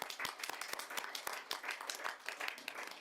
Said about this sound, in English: We'll give him a clap for it again.